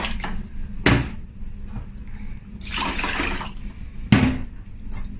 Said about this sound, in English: now you want to just pour out that hot water that we use to sterilize our